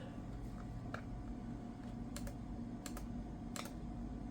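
A few scattered keystrokes on the worn keyboard of a Dell Latitude CPi-A laptop, isolated close clicks and a quick double tap over a constant low hum, with no speech.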